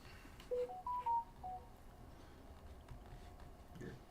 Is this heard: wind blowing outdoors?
no